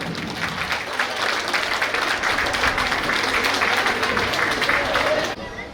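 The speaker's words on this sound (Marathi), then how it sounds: "तुमच्या टाळ्यांचा गडगडाट होऊन जाऊ द्या एकदा" An audience at a Ganapati festival celebration in Estonia breaks into sustained, dense clapping that holds steady for several seconds, loud and close, then cuts off abruptly.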